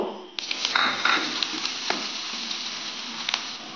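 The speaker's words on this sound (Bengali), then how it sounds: "সবগুলো বাদাম এই পেঁয়াজ আর রসুনের সাথে ভালোভাবে ফ্রাই করে নেব।" Onion, garlic, cashews and almonds frying together in a pan give a steady, close sizzle with faint scattered crackles and a few light stirring clicks, with no voices.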